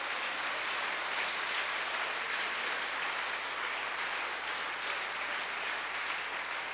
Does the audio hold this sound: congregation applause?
yes